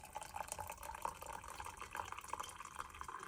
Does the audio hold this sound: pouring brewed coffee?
yes